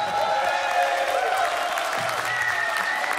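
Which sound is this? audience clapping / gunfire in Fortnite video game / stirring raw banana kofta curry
audience clapping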